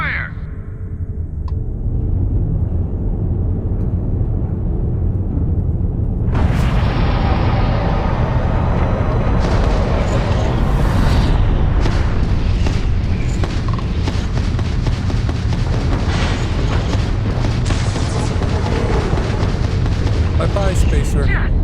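Weapons fire during a battle in Starfield, heavy booming and crackling shots that build into a dense, loud, continuous barrage, with voices shouting over the din.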